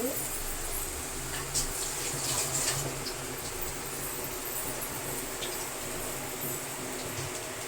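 Water pours steadily into a cooking pot for rasam, a continuous rushing splash that stays fairly even throughout, with faint background sounds.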